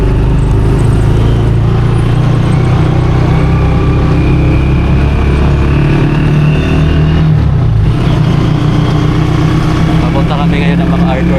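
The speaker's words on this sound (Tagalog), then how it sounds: "Dito kami sa tricycle" A ride in a tricycle through busy afternoon traffic, with a constant close engine rumble and road noise filling the whole stretch.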